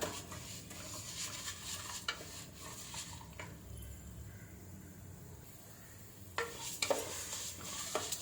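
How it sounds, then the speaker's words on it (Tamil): Green moong dal frying in ghee in a pan for pongal, a soft steady sizzle with intermittent stirring scrapes and utensil clinks against the pan. "நல்லா ஃப்ரை ஆகிக்கிறட்டும். அதுக்காக கருக விட்டுறாதீங்க."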